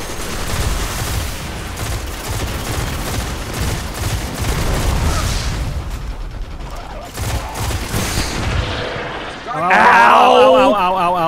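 Rapid turret gunfire from the video game Destiny rattles in dense, loud bursts under a player's voice, followed by a sharp electronic burst near the end.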